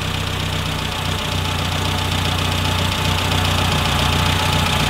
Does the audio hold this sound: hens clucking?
no